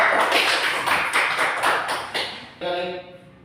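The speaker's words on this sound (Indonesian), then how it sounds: "kita beri aplaus kepada kelompok 3" Classroom applause for a student group, a burst of many hands clapping close by, lively and dense, fading as a voice begins to speak.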